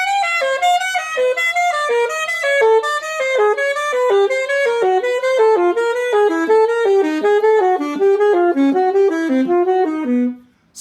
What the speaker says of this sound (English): And the second lick is from my saxophone warm-up exercises video.